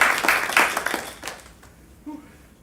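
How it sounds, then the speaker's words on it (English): A small audience at a Google Cloud NEXT '23 Extended DevFest event gives a short round of applause for presenters and panelists, a few loud close claps that quickly thin out and fade to near silence. "I do want to give a big round of applause for our presenters and our panelists today."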